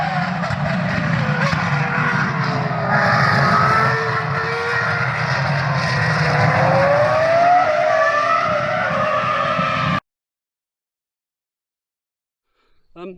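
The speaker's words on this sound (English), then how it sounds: "there are race cars on track, GT cars going racing" GT race cars thunder past at Brands Hatch, engines loud and close with rising and falling pitch as they pass, then the sound stops abruptly into silence.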